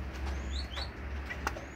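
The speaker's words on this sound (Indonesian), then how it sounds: "Nah, itu burungnya." A captive, recently caught wild kaso-kaso bird gives a few sharp, rising chirps and short whistles close by, spaced irregularly over a steady low hum.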